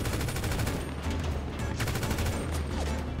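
Rapid bursts of automatic gunfire crackle in a GTA 5 roleplay shootout. The shots come in quick repeated volleys at moderate level with no talk over them.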